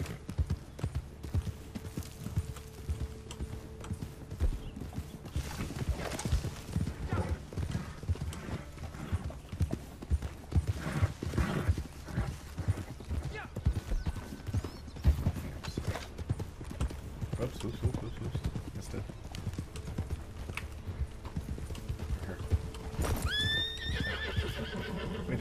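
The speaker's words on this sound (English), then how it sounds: "what is this horse? Whose horse is this?" A horse in the Red Dead Online video game gallops with rapid continuous hoof clip-clops over a steady rumble, ending in a loud whinny near the close; no talking.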